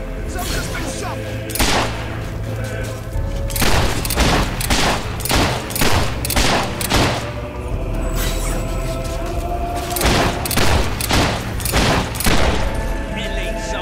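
Gunfire in Fable 3 as soldiers clash: a dense, loud string of sharp shots and booming blasts keeps going with barely a pause, over a constant rumbling background.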